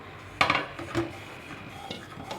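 A lid lifts off a cooking pot of steamed rice-flour dough for papad. One sharp metallic clink is followed by a softer knock about half a second later, close and fairly loud over quiet room noise.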